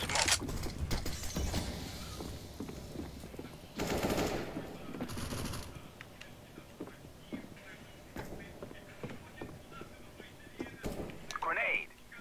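Decoy grenade in Counter-Strike: Global Offensive mimicking gunfire, with bursts of rapid automatic shots and mechanical clatter mixed into game sounds, louder clusters around the middle and end, with voice chat underneath.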